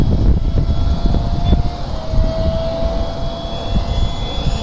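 An F-15 model jet with a 64mm electric ducted fan makes a low pass directly overhead, a loud whining rush with a steady high tone over a roaring wind-like noise.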